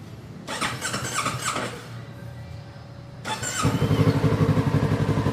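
A 2026 Kawasaki Z650 S motorcycle cranks with a brief whirring starter and then catches, settling into a loud, close, steady idle after a quieter stretch of mechanical noise.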